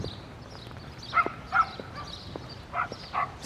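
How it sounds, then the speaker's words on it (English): A dog yips and barks excitedly several times in short bursts at a busy city beach, heard at a moderate distance over steady outdoor background noise. "some dog is excited about going for a walk at the beach"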